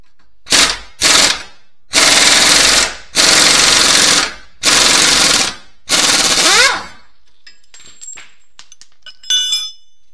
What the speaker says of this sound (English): I'm going to go ahead and pull this lower bolt on this car